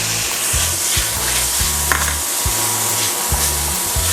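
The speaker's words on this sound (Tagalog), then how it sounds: "Ngayon, magsosote na tayo. Lagay lang tayo ng konting oil. Then, sunod natin ang ating garlic." Garlic sautés in a little hot oil, a loud, continuous close sizzle with a low rhythmic thumping underneath, no talking.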